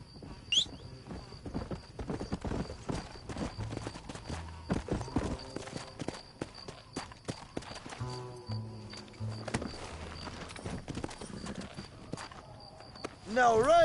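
Horse hooves clip-clop steadily in the Red Dead Redemption video game, in a rhythmic clatter that runs the whole way through. Music and game effects play over the hooves, with a sharp cry near the end.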